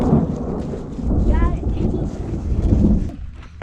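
Thunder from a storm rumbles low and steady near a Yellowstone National Park campsite, with rain and wind noise on the microphone throughout and a brief higher whine midway.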